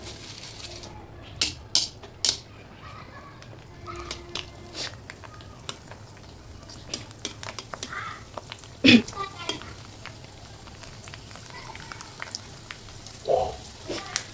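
Steady oil sizzling and bubbling as puffed puris for fuchka fry, with occasional soft clinks and splashes as pieces are turned, no talking.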